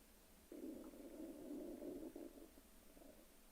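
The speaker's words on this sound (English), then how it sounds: "Stomach growling?" A person's stomach growls in a soft, low gurgling rumble lasting about two seconds, faint and close in an otherwise quiet room.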